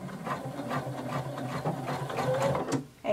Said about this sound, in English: continue sewing until you reach the next dot